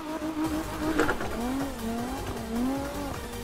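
Drift car in the CarX Drift video game, engine tone rising and falling through a gear shift while the tires squeal steadily in a continuous, loud skid.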